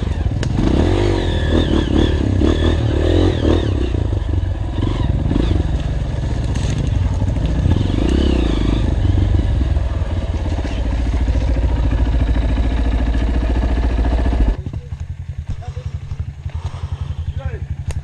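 A motorcycle engine runs and revs on a dirt trail, loud and close for most of the clip, then drops away abruptly near the end, with people talking at times over it.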